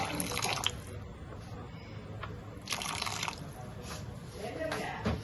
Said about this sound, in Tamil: ஹாட் வாட்டர் வந்து கொஞ்சம் ஆட் பண்ணிக்கலாம்.